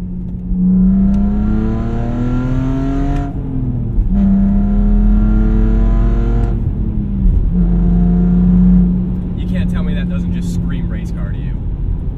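Loud exhaust on a BMW E46 330 revving repeatedly, a deep rising engine roar that climbs, drops, and climbs again in three long pulls.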